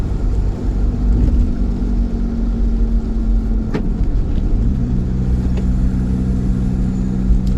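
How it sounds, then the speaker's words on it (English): A VW T3 van fitted with a TDI turbo diesel engine drives along, heard from inside the cabin. The engine gives a loud, steady, low droning rumble with a tonal hum whose pitch shifts slightly midway. No one speaks. "The turbo's actually louder now."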